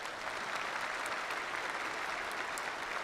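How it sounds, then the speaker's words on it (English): Applause for a graduate at a winter commencement ceremony, a steady, even crowd clapping that holds at a moderate level throughout with no breaks. "you can give her a round of applause"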